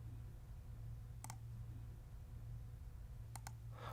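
A computer mouse gives a single faint click, then a quick double click a couple of seconds later, close but quiet over a steady low electrical hum in a quiet room.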